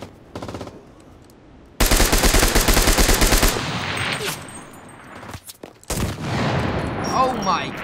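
Rapid automatic gunfire from a picked-up weapon in the online shooter CRSED: F.O.A.D., one loud sustained burst of shots followed by scattered shots and more firing nearby.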